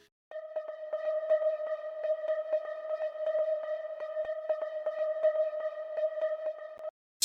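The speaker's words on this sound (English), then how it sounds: "First off is this ambiance plucky sample." Ambient plucky synth sample from an Afro House track, repeating short plucked notes over a sustained tonal bed, clean and steady for several seconds before cutting off.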